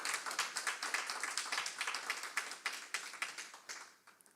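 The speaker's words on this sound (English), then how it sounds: "Yeah, you can clap there." A small audience claps at a political speech, the rhythmic, fairly even hand claps fairly faint and distant, thinning out and fading toward the end.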